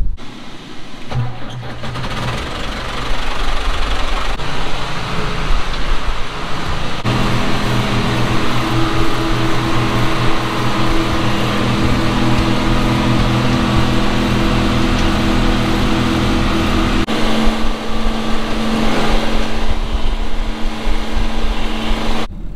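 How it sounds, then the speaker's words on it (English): A small engine idles and runs loudly and steadily nearby, its rumble rising slightly in pitch partway through, with no voices. "I'm going to run this little tractor down there"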